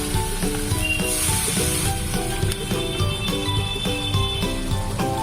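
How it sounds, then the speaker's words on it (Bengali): Coconut paste sautéed in a pan sizzles loudly and steadily as water is added, a dense continuous frying hiss with background music layered over it and no talking. "দু মিনিট মতো কষিয়ে নেওয়ার পরেই আমি জলটা অ্যাড করলাম।"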